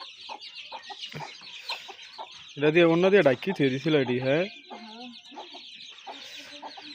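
Chickens and ducks cluck and chatter close by in cold winter weather, with a louder burst of squawking in the middle; a person speaks briefly between the calls.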